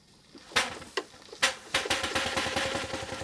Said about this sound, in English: This is how I start the engine without turning the flywheel into the correct position.